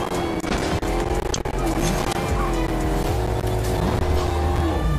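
Continuous tire squeal from a car drifting in Fortnite, a loud wavering screech layered over a steady engine drone that lasts the whole stretch.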